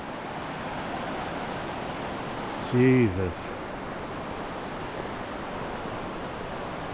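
Waterfalls along the Wahclella Falls trail in the Columbia River Gorge, running high, pour out a constant broad roar. A voice briefly exclaims over it partway through.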